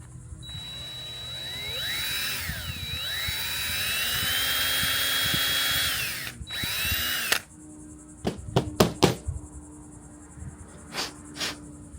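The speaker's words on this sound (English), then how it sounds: "you can ream it out a little bit. And with the size of the bit, it'll be right around 2mm." Power drill reaming a roughly 2mm oil feed hole for a turbo on a JZX81, a steady whining spin that bends in pitch under load for several seconds, then stops, followed by a few short bursts.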